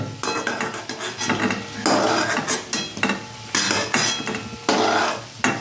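A spatula scrapes and clatters against a frying pan while fried kohlrabi and potato are lifted out, several loud bursts of metallic scraping between brief pauses, over a soft background sizzle.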